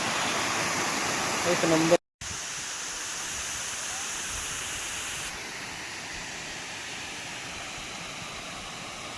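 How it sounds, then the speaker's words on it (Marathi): A waterfall at a scenic spot in a Konkan village gives a steady, broad rushing roar that drops out for a moment early on, then continues evenly; a voice briefly speaks over it. "मस्त असा धबधबा आहे"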